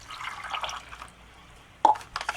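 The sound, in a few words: water poured into ration isotonic drink pouch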